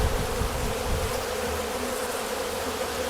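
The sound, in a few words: hornets or wasps buzzing around a beehive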